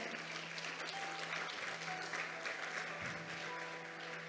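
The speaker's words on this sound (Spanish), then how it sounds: "denle un aplauso al Señor" Congregation applauding the Lord in a Spanish-language church service with a prophet preaching, a steady wash of clapping throughout with a faint sustained tone underneath.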